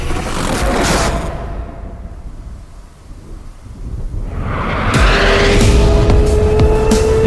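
A Hyundai N Vision 74 car drives past and corners, loud road and motor noise fading as it moves away, then swelling again as it returns with rising electric whine and tire noise.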